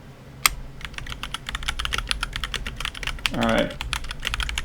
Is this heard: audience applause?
no